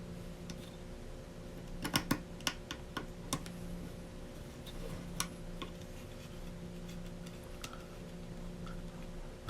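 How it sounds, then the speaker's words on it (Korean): A small screwdriver tightens the screws on a Thunderbolt 3 enclosure holding an NVMe M.2 PCIe SSD, giving faint, irregular ticks and clicks close to the mic over a steady background hum. "나사를 조여주시면 되고요."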